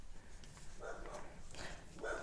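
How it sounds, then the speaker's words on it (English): A neighbor's dog barks several times in separate short bursts at moderate distance over a steady background hiss. "Sorry for the neighbor dog."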